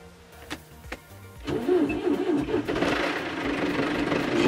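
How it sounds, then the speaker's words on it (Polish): A few clicks, then a John Deere 2250 diesel tractor engine cranks and catches, settling into a loud, steady rattling idle close by. "Zobaczcie, jak ten ciągnik pali."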